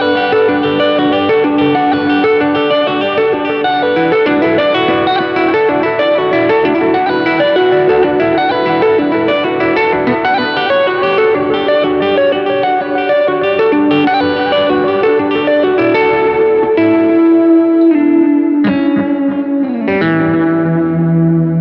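An electric guitar played through a Tascam-style gain stage rings out thick, saturated chords and melodic lines for about twenty seconds, loud and continuous with reverb tails, ending in a few looser, choppier strums, with no talking.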